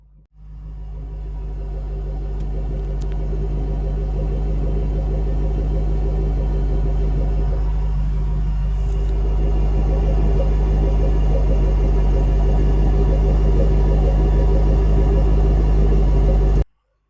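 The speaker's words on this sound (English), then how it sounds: "A dual exhaust unit stock here on the 2008 Ford Mustang Shelby GT500 with 6-speed manual." A 2008 Ford Mustang Shelby GT500 with stock dual exhaust idles close to the microphone, a deep, steady rumble that starts abruptly and holds evenly for the whole stretch, with no talking.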